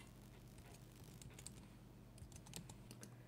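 Rapid computer keyboard typing, light close clicks in quick irregular bursts with short pauses, entering text into editing software.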